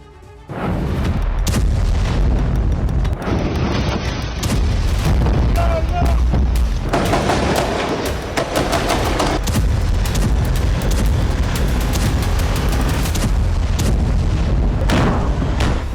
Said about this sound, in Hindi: धमाकों की आवाज, गोलियों की तड़तड़ाहट और इजरायली सैनिकों का एक्शन।